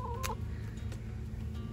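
Hens clucking at a chicken roost make soft, low murmurs under a steady, dense background hum, with one brief higher squawk near the start.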